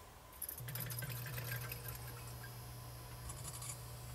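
Preheat fluorescent light fixture switching on, a steady low electrical hum starting about half a second in, faint flickering ticks over it, close by with no talking.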